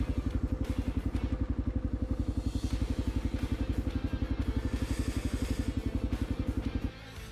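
A 2010 Kawasaki KLR650 motorcycle engine runs close by with a steady, rapid thumping beat. It drops off abruptly near the end.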